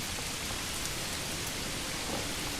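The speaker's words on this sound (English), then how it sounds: "All that rain coming down." Steady rain pours down in the medieval village-building game Manor Lords, a dense unbroken hiss of drops on surfaces that fills the whole stretch evenly, with no voices.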